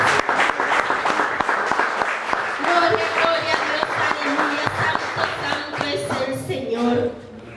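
A church congregation claps hands in praise, dense rhythmic palms close and loud, with voices and singing mixed in, before the clapping fades near the end.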